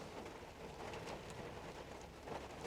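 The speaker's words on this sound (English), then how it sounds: "it started to rain. It's coming down rather heavy" Heavy rain comes down steadily on a Friday night in a busy town-centre council car park, making a dense, even hiss that is close and fairly loud, with scattered drops tapping on surfaces.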